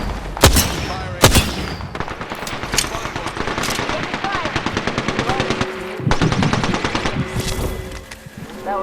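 Rapid machine gun bursts in the battle royale game Apex Legends, loud and close, with sharp individual shots and sustained rattling volleys stretching across several seconds amid layered gunfire.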